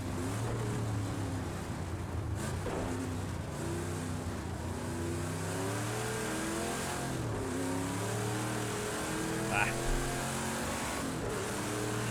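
A Chevrolet Camaro Z/28 engine in the racing game Project Cars 2 drones steadily throughout, its pitch rising and falling with the revs as the car pulls through gears, loud and close and with no talking.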